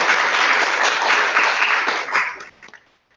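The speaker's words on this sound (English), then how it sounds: "I think another round of applause for that." Audience applause at a library history event, a steady wash of clapping that thins out and fades into scattered claps before silence.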